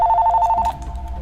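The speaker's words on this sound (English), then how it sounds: "wait, we got a phone call." An office telephone ringing: a fast, evenly pulsed electronic trill that stops abruptly after under a second, loud and close, followed by low handling noise.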